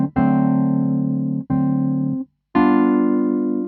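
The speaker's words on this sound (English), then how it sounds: "Then when we play them as full dominant 7th chords," Piano sounding three sustained dominant seventh chords of a blues in D, each held about a second with a brief gap before the last, loud and clear with no talking.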